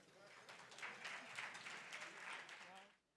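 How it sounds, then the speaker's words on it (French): Audience applause at an awards gala ceremony in Quebec, a steady wash of clapping from a crowd lasting about three seconds before cutting off, with a voice faintly present beneath it. "On l'applaudit encore"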